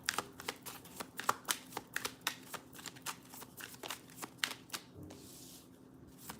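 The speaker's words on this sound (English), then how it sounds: "I'm going to shuffle the pile" Tarot cards shuffled by hand during a reading, a steady run of crisp riffling slaps and flutters repeating every half second or so, close and clear with no talking.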